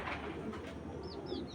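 Female pigeon of a tournament breeder line cooing, soft repeated coos standing out over steady room noise and faint background hum, with no talk.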